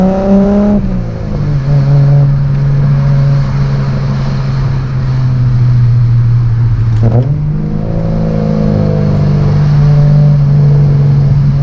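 Ford AU Falcon fitted with Pacemaker extractors and an aftermarket intake, driven hard on a mountain touge road: a loud, close, steady engine drone with a brief dip and then a rising rev, no talk.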